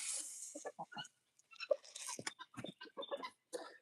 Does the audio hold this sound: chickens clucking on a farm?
yes